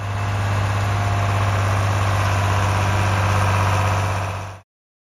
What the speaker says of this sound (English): Beneath that long hood was a 6-cylinder, 404 cubic inch diesel engine pushing around 95 horsepower.